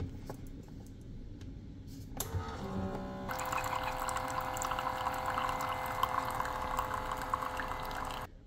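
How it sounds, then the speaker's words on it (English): Cold water running into a half-gallon water bottle at a hotel gym fountain, a steady rushing fill that starts after a couple of seconds and continues loudly to the end. "They have cold water down in the gym too, so I'm gonna go fill this up."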